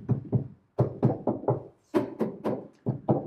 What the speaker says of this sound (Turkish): Buradan metal sesini duyabiliyorsunuz.